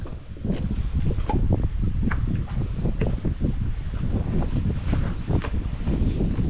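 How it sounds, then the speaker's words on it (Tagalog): Strong wind buffeting a wooden boat under construction on the shore, a rough, gusty roar with irregular thumps close to the microphone and no speech. "malakas pa pati yung hangin ngayon"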